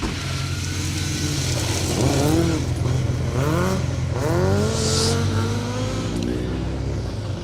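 A Den Motorsport rally car runs through a stage of the RAC Rally, its engine droning steadily at close range with rising and falling revs for several seconds, continuous and fairly loud.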